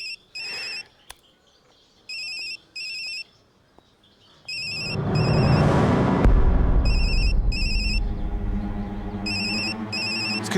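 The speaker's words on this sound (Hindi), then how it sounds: "आपका फोन बज रहा है, उठाएंगे नहीं?" Electronic phone ringtone ringing in short repeated bursts, then continuing under a loud, dense wash of music or background sound, fairly close and clear.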